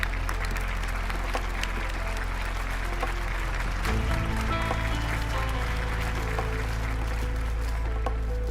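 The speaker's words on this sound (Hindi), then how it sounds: "अब मिस्टर शेनमी के लिए तालियां बजाइए।" Sustained audience applause for Mr. Shenmi, a steady wash of clapping from a large crowd that thickens and grows fuller partway through and carries on to the end.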